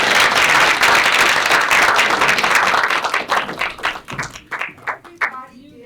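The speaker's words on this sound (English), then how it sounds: "a round of applause." Audience applause at a Black History Month arts celebration, loud dense clapping from a crowd that thins out into scattered, separate claps toward the end.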